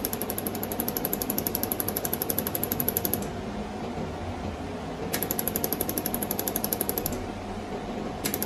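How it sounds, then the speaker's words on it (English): Mini jewellery laser welding machine firing continuously, a fast even train of sharp pulses that pauses for about two seconds and then resumes at the same rate, fairly faint and steady, with no one speaking. "When you press it, it will be continuously welding."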